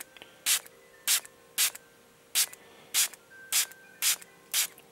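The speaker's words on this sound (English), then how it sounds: "Just spraying like that." A water spray bottle mists dandelion seeds in eight short, evenly spaced hissing puffs, close and fairly loud, with quiet pauses between them.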